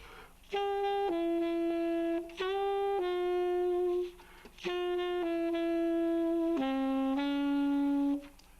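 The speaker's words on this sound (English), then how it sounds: "the recordings they made are some of the classics of bebop" A bebop jazz recording: a melodic line of sustained, clean tones moves through a few phrases with short gaps between them, played alone with no talking.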